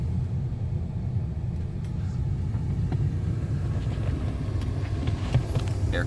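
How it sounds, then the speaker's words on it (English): A 1991 Cadillac Sedan Deville engine idles steadily, a continuous low rumble that holds an even level throughout, with no talking. "Engine's running."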